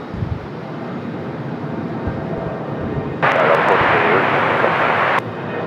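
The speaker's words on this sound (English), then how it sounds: "Delta Connection CRJ on the move" A Delta Connection CRJ jet taxis at Raleigh Durham airport with a low engine rumble, then a loud hiss surges in partway through, holds for about two seconds and cuts off, with voices in the background.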